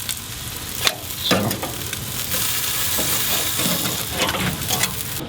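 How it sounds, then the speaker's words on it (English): Chicken wings searing over hot coals on an open Kamado grill, a steady crackling sizzle with occasional sharper pops, close and continuous, with a brief spoken word. "I'm just kind of like letting them sear up a little here with it open."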